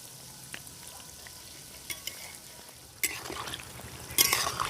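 Gentle sizzling of balushahi sweets frying in oil, with occasional scraping stirs and a louder burst of bubbling toward the end.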